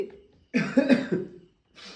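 A single nearby cough, a short harsh burst of about a second, follows a brief quiet pause, with a faint breathy sound returning just after it.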